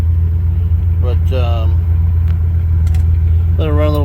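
A car engine idles steadily at low pitch in a speed shop, a loud continuous rumble with brief voice snippets over it.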